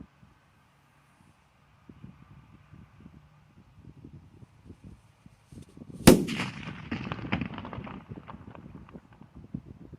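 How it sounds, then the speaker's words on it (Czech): A homemade extra-strong firecracker goes off in one sharp, loud blast, followed by a scattered crackle and rumble that fades slowly outdoors, with faint wind in the background. "Po domácku vyrobená mega silná petarda."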